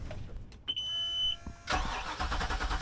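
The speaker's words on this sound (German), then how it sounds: "Nico, versuch mal zu starten, bitte." A houseboat engine is cranked with a jump starter: a short electronic beep, then the motor turns over and catches into a loud, steady running rumble.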